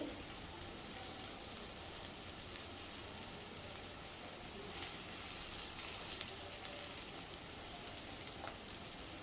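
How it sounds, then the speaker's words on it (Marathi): Stuffed bitter gourds fry uncovered in oil in a pan, giving a steady, dense sizzle and crackle that swells slightly midway, with no voices. "आता झाकण न ठेवता मी अशी परतून घेते, उलटपलट करून घेते."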